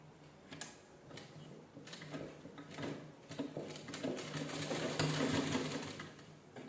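A sewing machine runs steadily while stitching the back neck of a blouse, its fast mechanical whir and needle ticking close and continuous, growing slightly louder toward the end with no talking.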